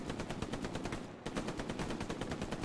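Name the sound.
machine gun firing in Hell Let Loose video game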